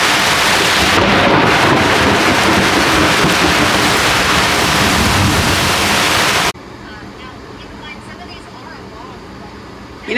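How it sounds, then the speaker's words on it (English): Tropical storm rain and thunder pounding around a boat, a loud, dense roar that holds steady for several seconds before dropping abruptly to a much quieter patter. "you look really stressed over this tropical storm, Arthur"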